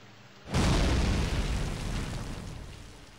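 Cannon fire in the fantasy strategy game Warhammer: Mark of Chaos: one sudden deep blast bursts in after a short quiet moment, then a loud rumbling roar slowly fades over the next few seconds, with no talk.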